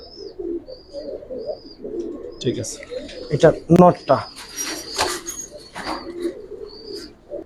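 Pigeons, including a black-tailed hen and a cock bird, coo low and intermittently nearby while people talk and handle birds, with faint chirps in the background.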